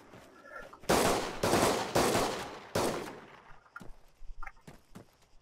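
Sniper gunfire in the Arma 3 military video game: four loud, closely spaced shots boom in succession, followed by scattered fainter cracks and impacts, with no talk.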